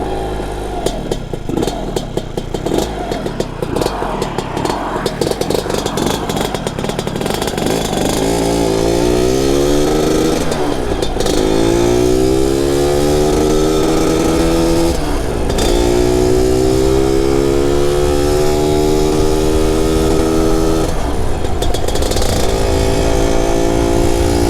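A cheap TS1 scooter engine fires up for its first start and runs loud and close, with rough rattly idling early on followed by repeated revs that rise and fall in pitch.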